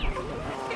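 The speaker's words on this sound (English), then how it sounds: "I think the chicken's laughing at me." Chicken clucking briefly in a backyard container garden, a short burst of soft, close fowl sounds that fades into a steady low murmur.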